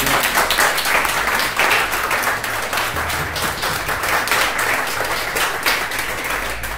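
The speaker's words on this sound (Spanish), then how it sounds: "Démosle aplausos, por favor." Sustained applause from an audience at a live event, a dense and steady wash of clapping that stays loud for the whole stretch with no voices over it.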